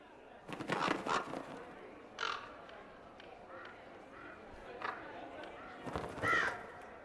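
Crows caw in Dragon Age Inquisition, a few separate harsh calls spread across the clip, moderately close, with faint background ambience and some voice-like sound between the calls.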